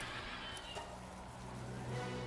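A brief, faint stretch of Palworld horse creatures at a base, with a quiet whinny and light hoof clops over a hiss of game ambience.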